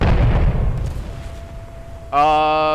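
A battleship cannon fires in a World War II beach invasion video game, a heavy booming blast that decays into a rumbling tail, followed by a loud tonal in-game sound near the end.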